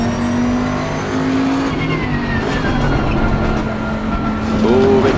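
A race car at Spa in the racing game Assetto Corsa Competizione, its engine droning steadily and rising in pitch near the end, loud and continuous; no talk.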